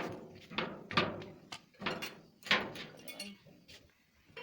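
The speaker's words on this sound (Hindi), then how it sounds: "तो अब मैं दरवाज़ा को बंद कर रहा हूँ।" A door is worked shut through a series of clattering knocks, scrapes and latch sounds spread over several seconds, close and moderately loud, with no clear talk.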